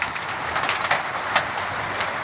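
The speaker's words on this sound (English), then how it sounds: "Although I'm hearing hail, which is not quite as good because I worry about the vinyl pool covers." Hailstones and rain patter steadily on outdoor surfaces, with scattered sharper hits standing out against a dense, continuous hiss.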